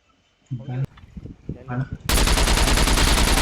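Rapid automatic gunfire rips out in the SCUM survival video game, a sudden loud sustained burst that follows a stretch of players talking over voice chat.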